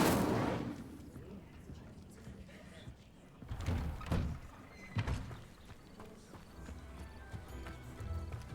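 Fiery blasts from the Incendio spell cast in Hogwarts Legacy burst out a few times in quick succession over a low, rumbling game soundscape with clopping sounds, fairly faint overall.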